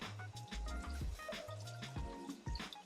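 Tap water runs into a sink while makeup brushes are washed, making close, quiet splashing, dripping and squishing with irregular bursts of liquid gurgle, with no voices.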